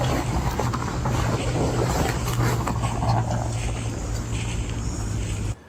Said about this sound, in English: It sounded like a car as well, like the wheels on like a gravel track